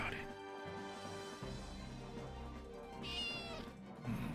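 Cat meowing indoors, a couple of short meows heard beneath ongoing music and game sounds, moderately faint.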